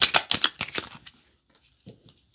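Tarot cards riffled by hand in a quick run of crisp papery flutters, then a pause and a couple of faint soft taps.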